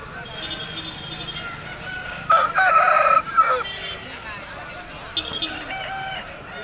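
At the Saturday rooster market in Konganapuram, a nearby rooster lets out one loud, clear crow amid a busy background, with a shorter crow or cluck later and people talking around it.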